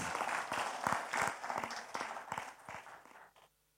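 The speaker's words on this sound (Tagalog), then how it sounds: "Isang malakas na palakpak muli para sa Diyos na buhay" A church congregation at a Filipino service claps in loud, rhythmic bursts of applause for God, the beats fading out toward the end.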